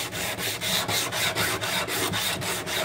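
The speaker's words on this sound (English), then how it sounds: "it's now time for the funnest part, hand sanding" Hand sanding a Damascus steel tanto knife blade, a steady broadband rasping scrape repeated in quick even back-and-forth strokes, close and fairly loud with no voices.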